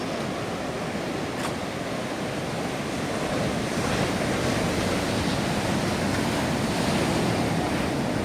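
Continuous roar of ocean waves washing in at Lakshadweep, loud and close, with wind buffeting the microphone throughout.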